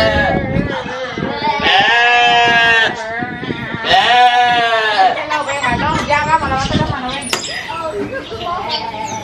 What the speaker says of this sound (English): there's goats everywhere.